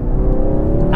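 A Ford Focus RS engine held at high revs, a loud steady roar with a strong low rumble throughout, close and continuous.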